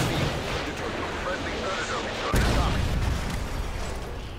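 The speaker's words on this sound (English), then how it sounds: "Ready for missile, ready for launch" A missile launch and explosion in a first-person shooter video game: a sudden heavy boom partway through, rising out of a constant roar of game noise and continuing as a rumble.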